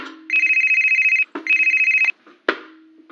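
A telephone rings in bursts of rapid electronic trilling, two long rings followed by the start of a third, loud and close with no talk over it.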